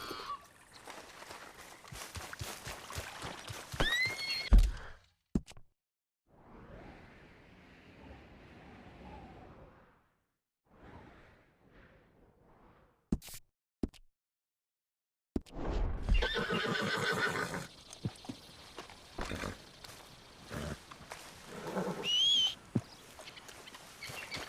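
A herd of Mustangs in Red Dead Redemption 2 whinnies and neighs loudly, with clip-clopping hooves and thudding movement, then a long near-silent gap before another noisy burst of horse calls and galloping.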